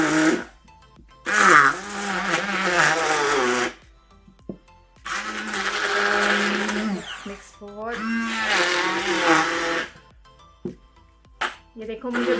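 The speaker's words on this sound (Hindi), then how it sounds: "अब हम इसको मिक्सर से मिक्स कर लेंगे।" A mixer whirs in bursts while blending ingredients for a homemade skin-whitening cream, loud and close, with pauses of silence between the runs of the motor.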